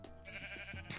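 A Minecraft sheep bleats a few times in quick succession, short wavering cries heard close and fairly quiet.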